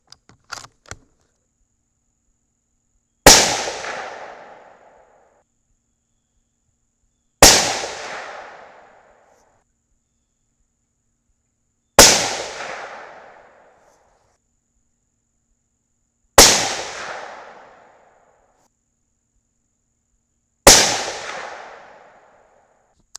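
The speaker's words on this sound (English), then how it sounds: "So let's shoot a 5-shot group." Five suppressed 6.5 Creedmoor rifle shots from a T/C Compass firing Hornady factory ammunition, each a sharp loud crack with a decaying tail, spaced evenly about four to five seconds apart, with no talking.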